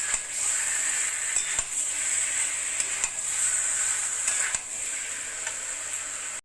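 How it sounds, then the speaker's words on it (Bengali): Boiled potatoes being stirred into spices in a hot pan for niramish aloo dum, a steady frying sizzle with scraping spoon strokes throughout, no voices. "এবার দিয়ে দেবো আমি সিদ্ধ করে রাখা আলুগুলো। আলু ভালো করে মশলার সঙ্গে মিশিয়ে নেব।"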